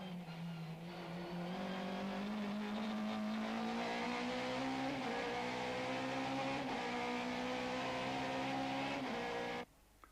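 Opel Astra and Nissan Sentra touring race cars at the 1994 South African Touring Car Championship at Zwartkops, engines howling loudly and climbing in pitch as the pack storms past, ending abruptly.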